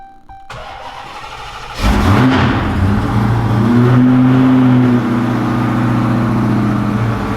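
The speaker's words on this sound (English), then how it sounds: "Getting ready to start this thing. Do an idle log. Start this thing up real quick." A 6-speed swapped Dodge Charger Hellcat V8 engine cranks briefly, catches with a loud roar, then settles into a steady, rumbling idle close by.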